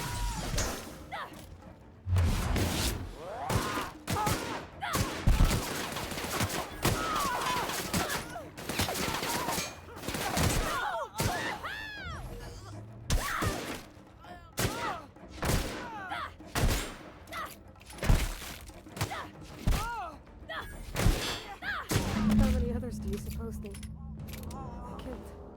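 Revolver shots and combat noise from The Outer Worlds crack repeatedly at an irregular pace over game sounds and a talking voice, with scattered thumps and metallic clatter between the louder reports.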